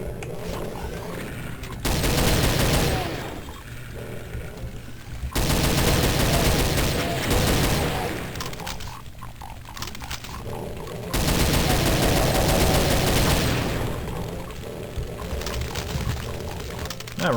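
Gunfire in Doom 2 comes in long, loud, dense bursts of rapid shots, alternating with slightly quieter stretches, with a voice talking faintly beneath.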